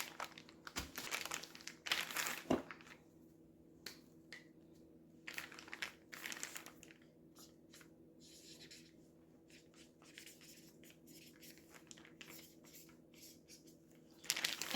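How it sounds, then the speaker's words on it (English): Chicken wings tossed with teriyaki marinade inside a resealable plastic bag, heard as bursts of plastic crinkling and squishing rubs, loud at the start and in the middle, then softer sporadic rustles. "Reseal this bag and give this another good mix."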